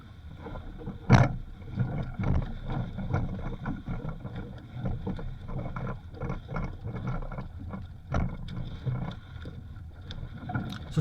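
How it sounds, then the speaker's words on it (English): A small sailboat with a reefed mainsail sailing across the wind, with steady water rush, hull slaps and wind buffeting against the microphone and a couple of sharper knocks, no talking. "So I'm sailing across the wind again there."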